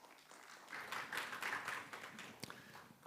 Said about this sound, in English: Let's give a warm round of applause for Intuitive Care.